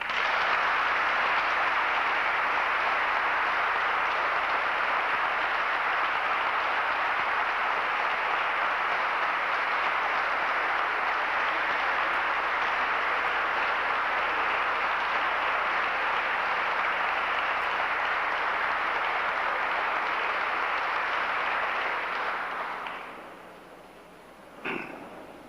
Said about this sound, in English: I'd like everyone to come together with a round of applause